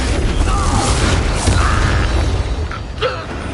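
Explosive Bombarda and Confringo spell blasts from the Hogwarts Legacy video game, a dense stretch of booming, crackling impacts layered over continuous game noise, loud and busy, with a brief tonal sweep near the end.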